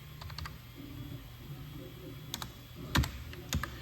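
Fingers type dimensions on a computer keyboard to set up a laser engraving table's page size, giving soft, uneven key taps, a few louder clacks near the end, over a low room hum.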